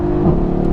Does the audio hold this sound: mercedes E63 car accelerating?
yes